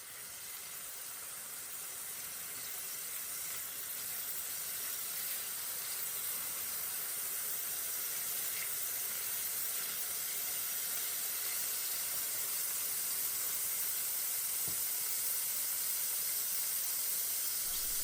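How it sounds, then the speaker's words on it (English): A pan of spices, tomato paste and fenugreek leaves fries for tikka masala, giving off a steady, unbroken sizzling hiss that slowly grows a little louder, with no voices. "Stir them together gently, then fry for a minute to start releasing the flavours."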